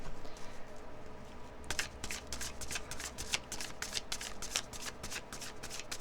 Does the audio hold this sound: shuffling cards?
yes